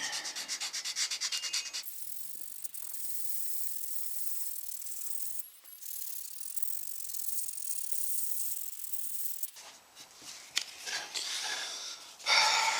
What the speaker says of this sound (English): Trying to sand that back at all and stay inside the lines